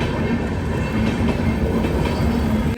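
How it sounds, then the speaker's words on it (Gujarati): A long train rolling past on railway tracks at a level crossing, a loud, steady rumble and clatter of wagons close by, continuous with no talking. "બહુ લાંબી ટ્રેન છે ભાઈ."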